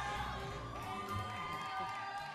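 A studio audience cheers and shouts continuously on an Argentine television entertainment show, a dense roar of crowd voices with music-like tones running throughout.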